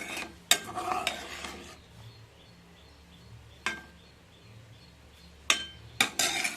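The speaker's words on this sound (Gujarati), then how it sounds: "તો આપણે હળવે હાથે બધી સારી રીતે મિક્સ કરી લઈશું આપણે ચોખાને." Rice being gently stirred in a pan for sweet saffron rice, with a few sharp scrapes and clinks of a spoon against the pan over a faint, steady background.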